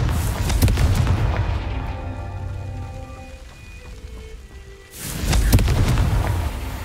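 Confringo spell blast in Hogwarts Legacy: a loud crackling burst that fades into a ringing, tonal decay, then another heavy explosive surge near the end, with no voices over it.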